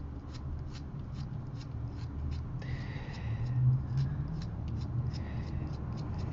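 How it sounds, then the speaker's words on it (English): Rapid, light scraping strokes repeat in a quick steady rhythm, close and crisp, as an X-Acto craft knife shaves wood from a drawing pencil, over faint background rumble. "So we're going to be sharpening our pencils like this."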